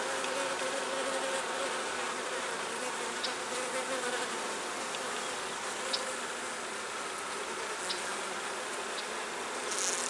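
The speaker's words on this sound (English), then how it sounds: "The hive is a little loud, which is always a sign of a queenless hive." Steady, dense buzzing of a queenless honeybee hive, a continuous close hum of many bees with a few brief louder passes near the microphone and no voices.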